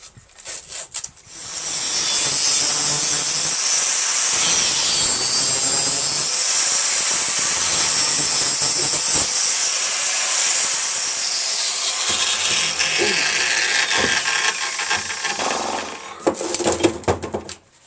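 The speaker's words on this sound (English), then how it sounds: "I'm going to cut the guts out of this now so that it can shrink up" A power tool cuts the internals out of a Suzuki Bandit 1200 motorcycle exhaust can, a loud sustained high whine and hiss lasting most of the clip, tapering into rattles and clatter at the end.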